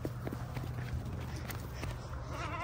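A goat on a small farm bleats briefly toward the end, among shuffling hoofsteps and movement around the feeding area, with light background noise.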